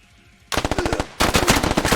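Automatic gunfire in a tactical shooter video game match on the Grand Falls map: a loud burst of rapid shots, a brief pause, then a heavier, denser burst.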